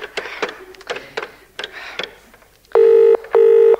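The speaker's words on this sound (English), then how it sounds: "I'm just dialing." Telephone number being dialed for a radio phone-in prank: a quick run of short clicking dial tones, then two long, loud, even ringing tones, with no talk.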